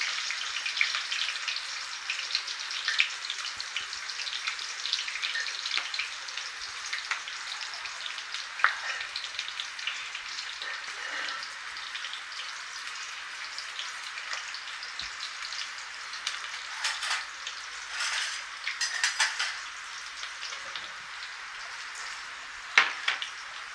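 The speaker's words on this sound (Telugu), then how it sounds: "ఆయిల్ వేడవుతుండగా కొద్దిగా ఆనియన్ వేసి బ్రౌన్ కలర్ వచ్చే విధంగా వేపుకుందాము" Onions fry in hot oil for a mutton curry, producing a steady, fairly soft crackling sizzle with a few sharper pops, heard close and alone.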